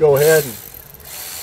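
A ratchet snugs a bolt on the front brake of a Ford Edge with rust-damaged rotors. A voice speaks briefly at the start, then close, quick mechanical clicking follows.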